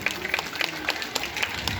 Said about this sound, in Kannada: ಇಡೀ ನೀರ್ಲಿ ಗ್ರಾಮದವ್ರಿಗೆ ಒಂದ್ಸಲ ಜೋರಾದ ಚಪ್ಪಾಳೆ